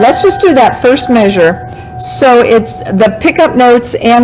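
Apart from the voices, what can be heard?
No everyday noises stand out.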